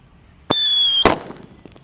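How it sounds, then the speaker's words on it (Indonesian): A sharp high-pitched whistle lasting about half a second from a whistling firecracker, ending in a single loud bang, followed by fading crackles and echoes. "lanjut kita mulai menyalakan mercon yang suaranya menggelegar guys"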